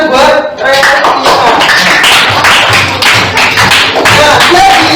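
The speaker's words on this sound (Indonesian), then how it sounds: "Tepuk tangan buat rekan." Classroom clapping for a classmate during an elementary lesson, a short loud burst of hand claps and taps with children's voices mixed in throughout.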